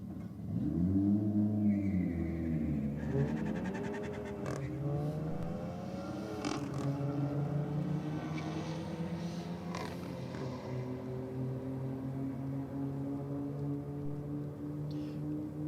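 Silver Ford and a VW launch side by side in a drag race, engines roaring loud and close with rising, shifting revs that carry on steadily, while a commentator's voice talks over the noise.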